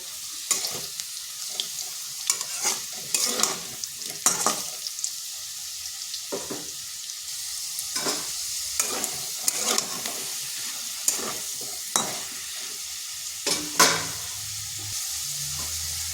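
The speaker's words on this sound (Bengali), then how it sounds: "আলুগুলো লাল লাল করে ভাজা হয়ে গেছে" Potatoes sizzle steadily in hot oil in a pan, with repeated scraping stirs of a spatula cutting through the crackle; no talking.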